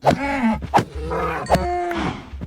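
Cows mooing in the Minecraft video game: a run of short, drawn-out, groaning moos follows one another quickly, loud and close, with soft thuds between them.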